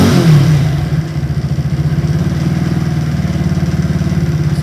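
A supercharged Honda postie bike engine idles a little high, loud and close, with a steady rapid putter and light mechanical clatter running throughout.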